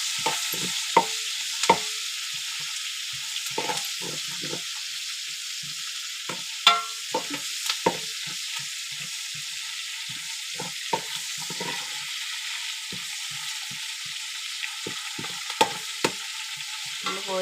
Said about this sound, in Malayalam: അത് എണ്ണയിൽ നമ്മളൊന്ന് മൂപ്പിച്ചെടുക്കാം.